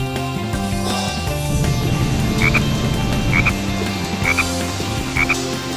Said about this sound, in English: We're detecting a frog in the vicinity.